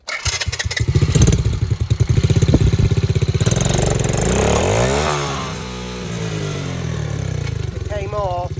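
Quad bike engine revving hard with a rough, buzzing pulse after new parts, dropping briefly and then pulling away as it rides off, loud and close, with voices underneath.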